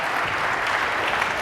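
A church congregation applauds the senior server during a service, with dense, steady clapping from many hands filling the room for a short burst.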